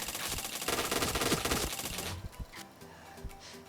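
Rapid automatic gunfire in a PUBG-style battle royale video game, heard as a dense, loud burst for about two seconds. Scattered fainter single shots follow as it dies down.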